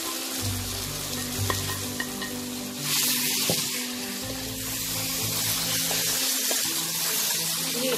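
Mashed eggplant for baingan bharta is stirred and fried in a pan, giving a steady sizzle with soft scraping strokes and occasional spoon taps throughout.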